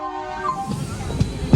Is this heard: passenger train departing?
yes